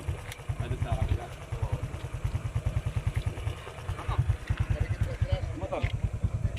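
A motorcycle engine on a farm road runs near and steady, pulsing in a rapid rhythmic chug with rattling clatter over the whole stretch.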